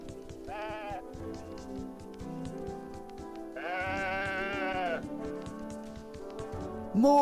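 Sheep in a video game bleat twice, a short call and then a longer wavering one, over a quiet steady game backdrop with rhythmic ticking.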